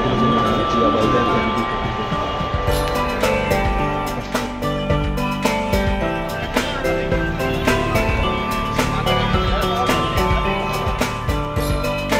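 Metro train ride with a steady rolling rumble and rhythmic clatter of the carriage, a constant close hum with repeated sharp ticks, overlaid by continuous background music.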